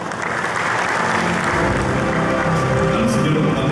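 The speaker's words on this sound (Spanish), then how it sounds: "Vamos a recibirle con un fuerte aplauso" An audience at the official opening of an agricultural show applauds loudly, sustained dense clapping filling the whole stretch with some crowd noise beneath.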